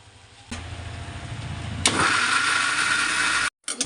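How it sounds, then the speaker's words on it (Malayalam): Mixer grinder blending tomato with chili powder, turmeric and a little water for a fish curry: a low motor hum builds, then jumps to a loud steady whirring grind before cutting off abruptly, followed by a short clatter. "ഇനി നമ്മളിത് മിക്സിയിലടിക്കാൻ പോവുക"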